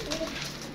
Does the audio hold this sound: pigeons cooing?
yes